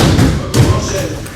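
A wrestler thrown down onto the mat during wrestling practice lands with one heavy, dull thud midway through, surrounded by people talking nearby.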